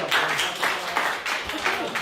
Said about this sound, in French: Ok, applaudissez là.